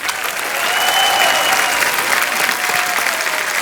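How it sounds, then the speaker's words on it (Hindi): Studio audience applauding the Mubarakan film cast on a Hindi comedy talk show, a dense, steady wash of clapping that holds loud and even throughout with a faint crowd murmur underneath. "राहुल देव और करण कुंद्रा के लिए जोरदार तालियां"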